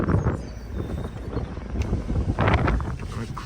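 Steady wind rush inside a Mercedes-Benz C250 AMG Sport coupe (W204) on the move, a continuous low roar with brief louder gusts and faint cabin rustles.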